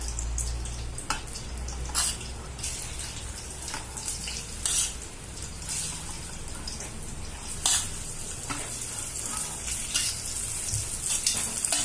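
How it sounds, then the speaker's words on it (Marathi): Grated boiled potatoes fry in hot ghee, giving a steady close sizzle that carries on throughout, broken by scraping and stirring sounds at intervals, with no talking. "तूप गरम झालंय आपण आता हे बटाटे टाकतोय किसलेले"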